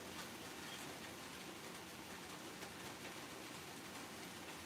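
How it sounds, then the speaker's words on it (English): Rain falls steadily outside, a faint, uniform hiss of drops with no breaks or swells, heard from indoors at low level. "It is raining outside."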